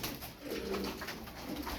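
A pigeon gives a soft, low cooing call, close by and fairly quiet, over light background noise with no speech.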